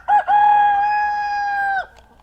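A rooster crows once on a farm, a single loud, close, sustained cock-a-doodle-doo that starts with a brief hitch and holds a steady cry before cutting off, with no other sounds around it.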